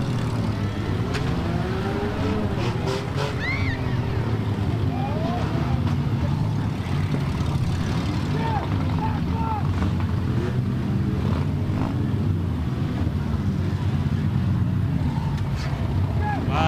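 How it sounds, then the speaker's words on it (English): Many cars with engines running at a 2025 Balsam Lake demolition derby: a continuous loud rumble of idling and revving motors, with wind buffeting the microphone and occasional voices in the background. "A lot of cars running yet."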